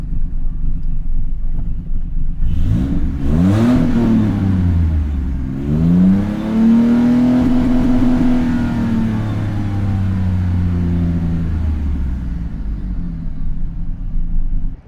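A 1997-2003 Ford F-150 V6 with a Gibson dual exhaust revs up hard twice with a deep throaty exhaust roar, then settles into a loud, rumbling idle.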